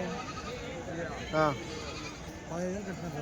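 Young male goats at a Tuesday livestock market in Kadiri let out two clear bleats, one sharp and one softer, over a constant murmur of crowd noise.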